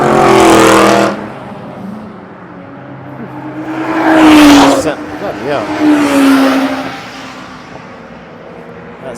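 A CTR Aston Martin Vantage BTCC race car warming up on track, its loud engine roaring past the listener several times with rising and falling revs and faint tyre noise, while a person speaks briefly at the start.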